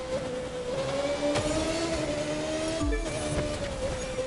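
A race car in The Crew 2 video game, an Alpha Grand Prix car on a speed-tour circuit, holds a high steady whining engine note that climbs gradually, with a brief dip and tyre scrub before the revs resume.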